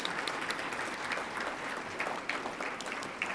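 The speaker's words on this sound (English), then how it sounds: "So let's show them a round of applause as well." Steady audience clapping honours parents at a Muslim teachers' creativity and innovation awards ceremony, an even, continuous patter of many hands at moderate volume with no talking over it.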